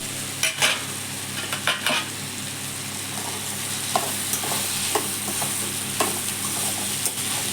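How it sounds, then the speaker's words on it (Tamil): Cauliflower sautéing in hot oil for a cauliflower and pea stir-fry, a steady sizzle broken by scattered scraping stirs and clinks of a spoon against the pan, close and fairly loud with no talking. "ஒரு 2 நிமிஷம் எண்ணெயில் நல்லா வதக்கி விட்டுலாம்."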